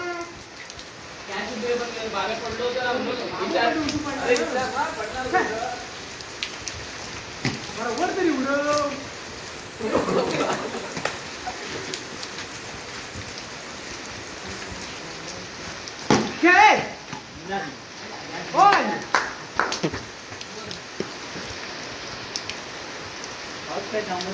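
Rain falls steadily during an outdoor cricket game in the Konkan, a continuous hiss beneath frequent talking and occasional shouts from players.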